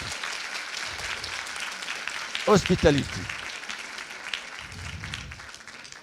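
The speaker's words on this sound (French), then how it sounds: "je vous demande d'applaudir en introduction" A French audience at a master class breaks into applause, a dense, steady clapping that fills the room throughout, while a voice speaks briefly over it.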